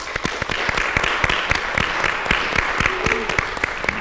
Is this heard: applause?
yes